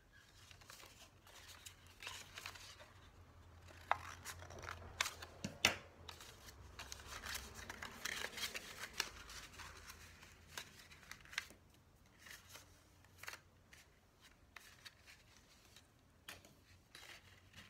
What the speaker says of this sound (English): Cut this part and stop right here. Cut the same part on the other side.